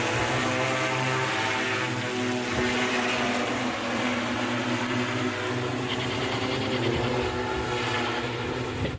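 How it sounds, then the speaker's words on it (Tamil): An agricultural drone sprays pesticide over crop fields, its rotors giving a loud, steady, unbroken buzzing drone from start to finish. "ட்ரோன் மூலம் விவசாய பயிர்களுக்கு மருந்து தெளிக்கும் நவீன தொழில்நுட்பம் குறித்து செயல் விளக்கமும் செய்து காண்பிக்கப்பட்டது"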